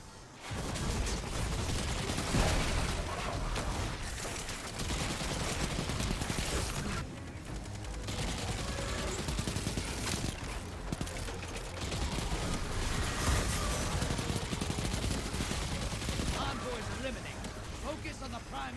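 Dense gunfire in a video game firefight, rapid continuous bursts and shots layered over each other, loud and sustained with a short lull midway.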